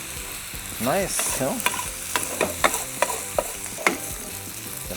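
Wagyu fried rice with a touch of soy sauce being stirred in a hot pan, a steady sizzle broken by repeated scraping spatula strokes up close; a voice speaks briefly near the start.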